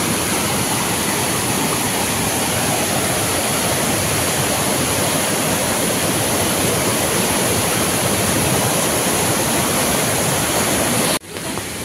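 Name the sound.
water rushing down forcefully, falling water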